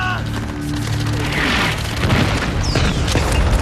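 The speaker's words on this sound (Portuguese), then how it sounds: "Agora vinha o bombardeio da artilharia." Artillery bombardment in a D-Day war scene: deep booming explosions and crackling blasts roll in one after another, loud and layered over a low rumble, with a whistling incoming shell near the end.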